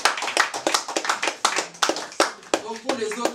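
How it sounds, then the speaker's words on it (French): An audience at a comedy show claps in a brisk, fairly loud rhythm of sharp individual hand strikes, with voices rising over the applause toward the end. "On applaudit bien fort"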